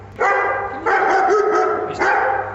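A pet dog barks in three loud, close bursts, each a sustained harmonic bark-howl, with brief gaps between them.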